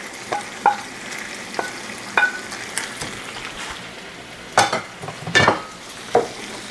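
A shrimp, bell pepper and mushroom stir fry with green onion sizzles steadily in a hot pan, broken by several sharp scrapes and clacks as it is stirred and tossed, close and fairly loud.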